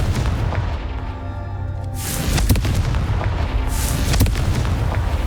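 Confringo blasting spell fired in the Hogwarts Legacy video game, a loud booming fiery explosion with heavy low rumble and crackling debris, followed by a second blast burst amid continuous roaring noise.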